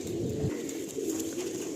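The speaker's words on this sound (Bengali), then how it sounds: "এত নাম্বার সব পায়রা এখানে রয়েছে" Pigeons in a crowded loft holding hundreds of birds, giving soft, low throaty coos that repeat in a quiet, close murmur with no talking.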